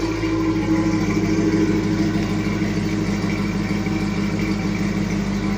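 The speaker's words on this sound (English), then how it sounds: "Let me cut the car on, because it works better with the car on." A Chevrolet Monte Carlo SS engine idles steadily at close range, a constant low rumble with a smooth, even tone throughout and no voices over it.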